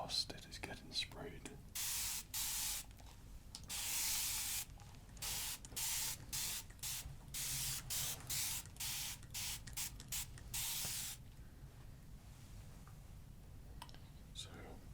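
A spray bottle releases fine mist in a long series of short hissing bursts up close, some quick and some drawn out, in a quiet ASMR setting with faint whispering nearby.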